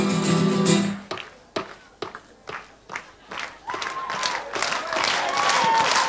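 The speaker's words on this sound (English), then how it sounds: "If you feel like clapping your hands or stamping your feet" A live folk concert audience claps and stamps in scattered sharp bursts after music stops, swelling into broad applause with shouts and whoops toward the end.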